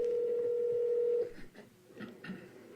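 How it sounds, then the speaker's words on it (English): A steady phone line tone on a 911 emergency call holds for about a second, then cuts off into faint line noise and scattered clicks. "You will now hear an audio clip of that 911 call"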